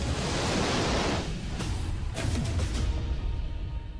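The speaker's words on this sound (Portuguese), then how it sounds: "terremotos e tsunamis destruíram a cidade, submergindo-a debaixo de água e lama" Crashing tsunami waves and surging water flood through a city in a steady, loud wash of broadband roar, with rushing surf and gusty wind-like noise throughout and no voices.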